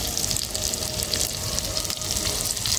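Kebabs fry in shallow oil, giving a loud, continuous close-up sizzle and crackle with no pauses and no talking.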